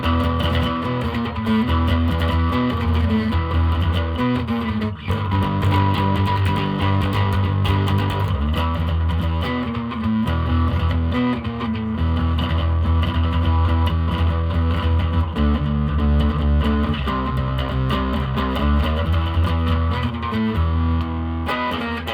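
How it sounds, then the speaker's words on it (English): A Washburn B20-8 Stage Series eight-string bass plays a continuous riff through a gritty overdrive distortion pedal, thick and buzzing, with no pauses and no voices. "But it really comes to life with a distortion pedal."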